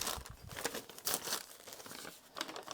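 Rust- and coffee-dyed handmade paper and old book pages being crumpled and crinkled by hand, a close, dry rustling with several bursts of crunching in an uneven rhythm, no voices.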